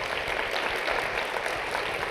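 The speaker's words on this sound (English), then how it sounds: "everyone deserves a round of applause" Audience applause for volunteers rises as a dense, steady patter of clapping from a crowd, moderately loud and unbroken for a couple of seconds, with no talking over it.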